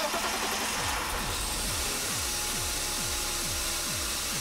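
BMW car engine being cranked by the starter, a rhythmic series of regular cranking pulses repeating steadily over a constant hum, close and alone without talk.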